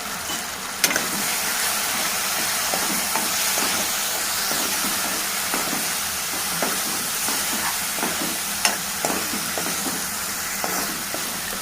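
Spices such as chili powder and coriander powder are stirred into a Telugu curry of cassava and flat beans in a hot pan, a steady hiss and sizzle under soft scraping taps throughout, no voice.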